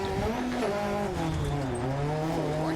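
A Group B Metro rally car in DiRT Rally 2.0 drives hard with a loud, steady engine whose pitch rises and falls through shifts, with tire squeal mixed in and no talk.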